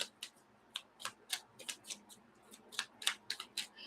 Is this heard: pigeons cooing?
no